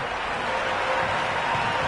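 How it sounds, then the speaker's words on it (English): A cricket video game stadium crowd cheers and applauds in a dense, steady roar of clapping and voices that holds at an even level throughout. "The crowd are really getting quite raucous"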